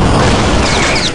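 A grenade in the video game Superfighters goes off with a single loud, close boom that fills the moment with a dense, rumbling blast and no voices over it.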